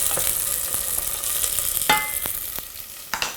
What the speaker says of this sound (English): Stirring a little bit more in the mushrooms and garlic and ginger and spring onions.